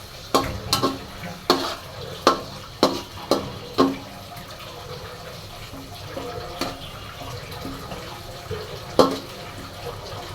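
Onions sizzle softly in a pan while a spoon stirs them until brown. Sharp scraping clacks come in a quick series near the start, then occasional ones over a low, steady hiss.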